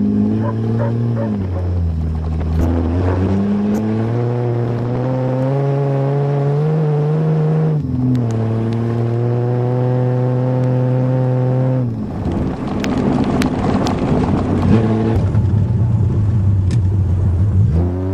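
A 1982 Toyota Cressida's engine drones steadily while driving in the rain, pitch climbing and dropping through gear changes with a sustained hum, then a rougher, noisier stretch of road and rain wash toward the end, with no talk.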